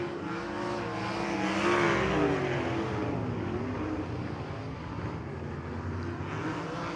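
Dirt track race cars at Bubba Raceway Park roar around a corner, a dense, sustained engine drone that swells and fades slightly, heard at moderate distance with no talk.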